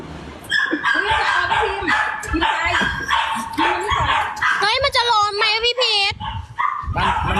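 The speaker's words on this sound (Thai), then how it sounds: "มันเห่าดังมาก" A dog barks loudly indoors in a rapid run of sharp barks mixed with high yips and whimpering whines, up close, with people's voices around it.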